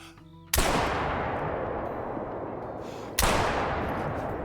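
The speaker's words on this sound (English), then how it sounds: "Another vital hit with 20 gauge buckshot." Two sharp, booming 20 gauge buckshot shotgun blasts in the hunting video game Call of the Wild, spaced about two and a half seconds apart, each followed by a long rolling echo that slowly fades, with no voices.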